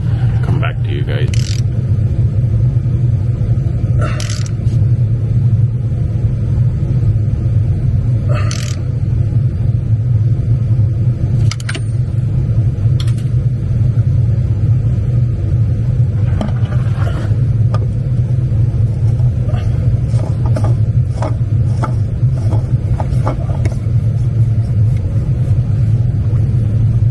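A Ford F350 truck engine, left sitting for a while, idles after starting with a steady, loud low rumble lasting throughout, broken now and then by a few short clanks and rattles.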